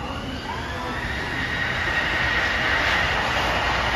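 A passing train on a Japanese rail line where double track merges to single track, giving a steady continuous rumble with faint wheel squeal, loud and close throughout, with no talking.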